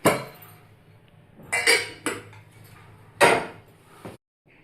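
Metal pots and their matching lids clank and clatter together in a few loud, close bursts with short pauses between.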